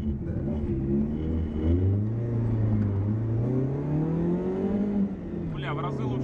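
A VAZ 2112 car drives and accelerates from inside the cabin, its engine note climbing and falling steadily under a constant road rumble, loud and continuous.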